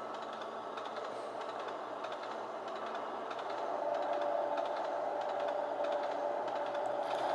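An Acela Express train running in the Trainz Simulator 2 game, a steady synthetic rail hum with a rising tonal whine partway through and faint clicking like keyboard taps.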